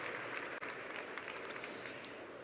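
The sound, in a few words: applause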